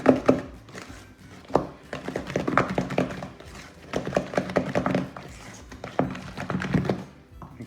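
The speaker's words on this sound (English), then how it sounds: "So we cream this together." Butter and sugar being creamed together in a bowl with lime cake batter ingredients nearby, giving repeated dull thunks and scraping knocks in an uneven rhythm, close and moderately loud.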